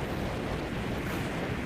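Rough sea waves and gusting wind batter a small fishing boat off Khánh Hòa, a steady, dense roar of surf and wind noise close on the microphone throughout, with no talking.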